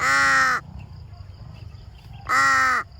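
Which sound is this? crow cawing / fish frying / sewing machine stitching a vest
crow cawing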